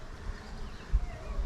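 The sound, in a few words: honeybees buzzing at hive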